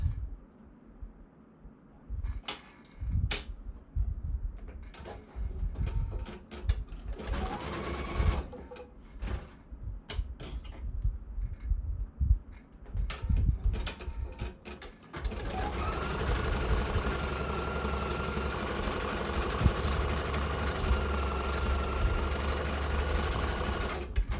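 An embroidery machine stitches a patch in the hoop, giving off rapid mechanical clatter in irregular bursts, then a louder continuous whirring run of stitching, all close by.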